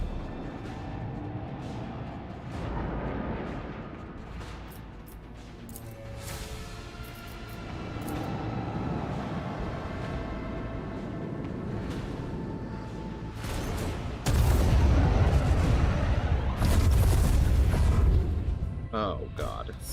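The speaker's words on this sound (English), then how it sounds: "Torpedoes And locked. that was torpedoes." Torpedo strikes in the Warhammer 40K: Rogue Trader video game, a dense roar of heavy booms and impacts that swells louder near the end, layered over game music and other effects.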